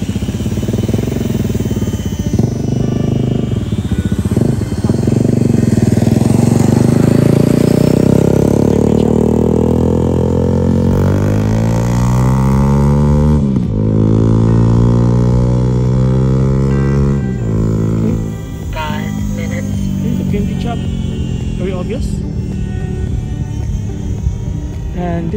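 The electric motor and propeller of an Eachine mini P-47 RC warbird plane whine loudly in flight. The pitch sweeps up and down as the plane passes, close and continuous with a buzzing, rising-and-falling drone.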